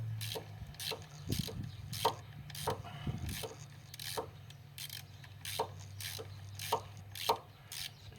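A hand ratchet loosens 8mm water pump bolts on a Pontiac G6, giving bursts of quick, close clicking that repeat in a steady rhythm for several seconds over low background hum.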